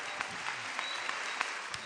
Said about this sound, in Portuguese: Salva de palmas para a Luzia